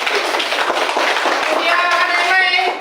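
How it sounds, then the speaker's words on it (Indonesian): A classroom group claps for students after their group work in a lesson, producing dense continuous clapping that keeps a steady level, with faint voices and some tonal sounds toward the end. "Tepuk tangan dulu."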